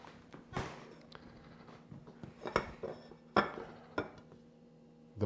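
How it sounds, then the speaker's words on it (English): Knife slicing into a triple chocolate cheesecake left on the base of its pan, heard as a few soft, close scrapes and clinks of metal against the pan at irregular moments over a quiet background. "See if we can't cut us a nice piece here"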